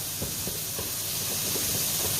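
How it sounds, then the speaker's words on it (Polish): Meatballs fry with vegetables in a pot, giving a steady loud sizzle and hiss with faint spattering pops throughout, and no talking. "przecież one dalej będą się jeszcze smażyły"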